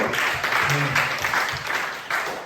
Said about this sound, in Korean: 우리 격려의 박수